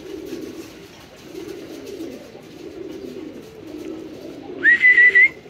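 A pigeon coos near a cage in a garden, giving a steady series of low, rhythmic coos close by. A brief high whistle breaks in near the end.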